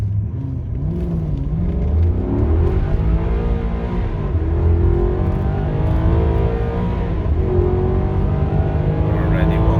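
A Maserati Quattroporte Duoselect accelerates hard on a motorway, its engine climbing in pitch through repeated gear changes, heard loud from inside the cabin with a steady road and wind roar beneath.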